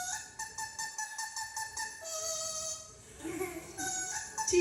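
Tico, an Amazon parrot, calls out in a run of quick repeated squawks followed by longer warbling, tonal cries, loud and close.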